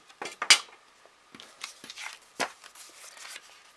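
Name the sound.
scissors cutting paper for an Easter card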